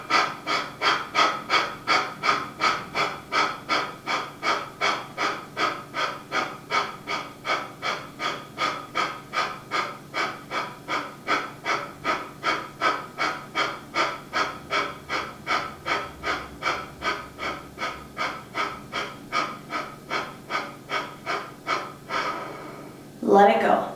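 Deep rhythmic breathing during a core flow exercise, steady inhales and exhales repeating about once a second for the whole stretch, close and clear, ending in a longer breath.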